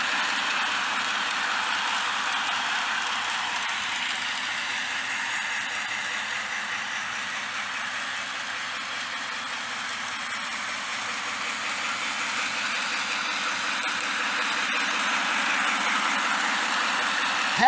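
A continuous whirring hum of a small model train pulling tank cars running steadily, faint clicking of wheels over track, no voices.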